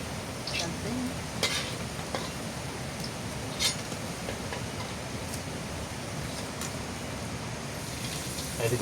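Food frying in oil in a village kitchen gives a steady crackling sizzle with occasional sharper pops and clinks, close and continuous, with faint voices mixed in.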